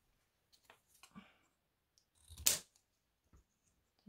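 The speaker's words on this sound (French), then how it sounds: "Ciseaux." Scissors make one sharp snip through paper while a handmade card is being prepared, with a few soft clicks and handling sounds before and after, close and fairly quiet.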